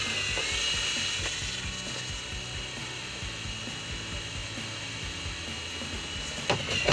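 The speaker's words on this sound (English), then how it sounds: "the last step is to carefully drill" A drill bores holes in the metal body of a Jeep Gladiator JT for a snorkel install, giving a quiet, steady mechanical whir with rapid ratcheting clicks throughout.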